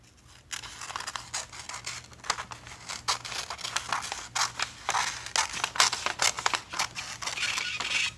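Scissors snip through paper while a treasure map is cut out, a quick series of close, crisp cuts and rustles coming in irregular bursts with no talking.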